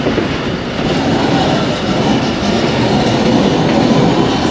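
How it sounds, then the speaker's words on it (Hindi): The 122 Down Ravi Express passenger train pulls out of Lahore Junction, a loud, continuous rumble of rolling carriages with rhythmic clatter of wheels on track, close by and steady, no voices. "2:35 पर डिपार्चर हुआ है 122 डाउन रावी एक्सप्रेस का।"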